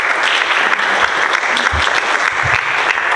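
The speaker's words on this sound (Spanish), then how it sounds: "Demos un aplauso nuevamente al profesor invitado por todo el grupo." Sustained applause from a group attending a keynote lecture on education policy, many hands clapping steadily and fairly loudly, with a few low murmurs underneath.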